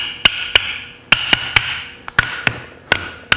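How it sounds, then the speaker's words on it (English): A hammer strikes dowel pins down into a large mold in a workshop, ringing metallic blows landing close and loud in an irregular rhythm, about a dozen hits, some in quick pairs, with no talking. "So we're going to hammer these down."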